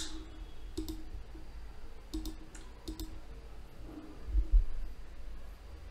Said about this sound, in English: Now go to data, click on data validation.